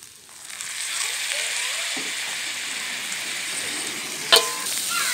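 Boiled, pounded beef stir-fried with roasted grated coconut in oil for serundeng, a continuous close sizzle with light stirring scrapes and one sharp clatter near the end, no voices.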